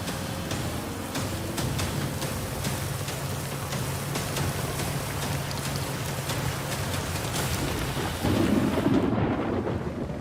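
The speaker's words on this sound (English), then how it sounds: "torrential rain is making it too slippery to load" Torrential rain pours steadily in Mackay, Queensland, where heavy mining dumpsters are being loaded. The dense, loud hiss of the downpour is broken by occasional sharper splashes and swells slightly toward the end.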